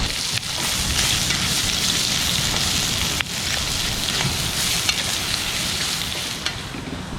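Sausage and garlic frying in oil in a pot, a steady close sizzle and crackle with occasional stirring clatter, and no talking over it.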